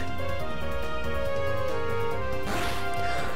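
In the Pokémon Prism video game, the Explosion attack lands as a sudden noisy burst partway through, cutting across steady looping chiptune battle music.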